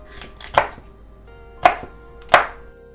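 A knife comes down on peppers and onions on a cutting board in three sharp, close chops, spaced irregularly over a quiet background.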